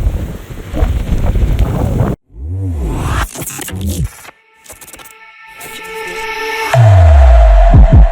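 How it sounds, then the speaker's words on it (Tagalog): Strong wind buffets the microphone in loud, rough gusts, with abrupt dropouts and a deep rumbling roar building toward the end. "Grabe, lakas ng hangin."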